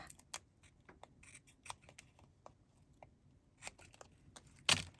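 Scissors trim paper for a flower embellishment in a quiet room, giving faint, scattered snips and crisp cuts with a sharper snap near the end.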